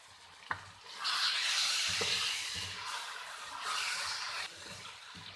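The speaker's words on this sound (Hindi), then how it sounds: "अब हम चम्मच हिलाते हुए 3 से 4 मिनट के लिए इसे मज़ीद भूनेंगे।" A spoon scrapes and stirs potatoes and turnip frying in a pan, with a few sharp knocks against the pan and a steady hiss of sizzling oil that swells and fades between strokes.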